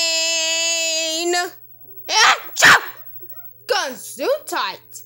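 A single sharp sneeze bursts out after a steady electronic tone, followed by a few short voiced sounds that could be more sneezing or a reaction.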